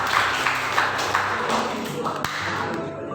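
A school audience at a high school student council candidate debate gives a dense, continuous round of applause, steady and fairly loud, easing slightly toward the end.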